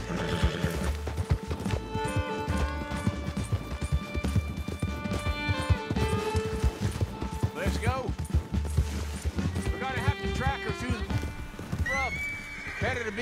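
A horse's hooves clip-clop and gallop steadily while it whinnies and neighs several times in Red Dead Redemption 2, with someone talking over the action and music.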